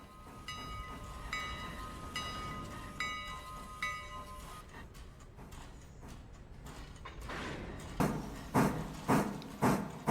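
Train wagons being shunted in the railway game Railroader: a mechanical clanking and hum with repeated tonal chimes early on, then a run of loud, evenly spaced metallic bangs as the cars couple and jostle close by, with no talking.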